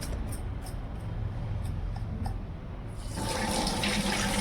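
Rinse water from washed bhagar (barnyard millet) being poured off, a close splashing trickle with faint clinks that swells into a fuller, louder pour near the end, with no voices.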